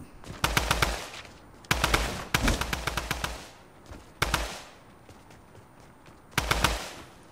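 Rapid automatic gunfire in the video game Fortnite comes in four separate bursts of fast, crackling shots. Short pauses fall between the bursts, and the shots sound fairly close and sharp.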